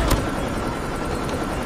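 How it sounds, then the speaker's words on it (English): A stealth chopper helicopter arrives in Call of Duty Mobile, a short burst of steady loud rotor and engine noise mixed with game sounds. "Stealth chopper inbound."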